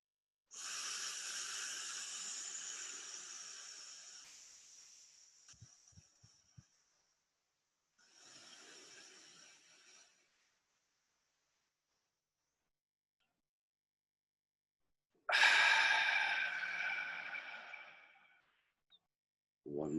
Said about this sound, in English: Now the large cycle breathing.